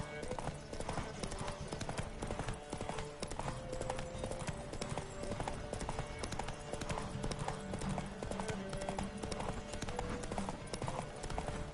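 Rapid, steady hoofbeats of a galloping horse in The Witcher 3: Wild Hunt run throughout, mixed with background music and a voice speaking over them.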